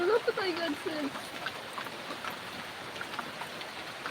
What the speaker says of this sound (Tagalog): Grabing ulan.